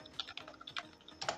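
Typing on a computer keyboard while entering product names into an Excel invoice, a quick flurry of light clicky keystrokes, quiet and close, without speech.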